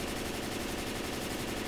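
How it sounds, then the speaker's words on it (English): Rapid automatic gunfire in the zombie shooter Left 4 Dead 2, a steady dense rattle of shots held at an even level throughout, somewhat muffled under general game noise. "I'm shooting. I'm just shooting."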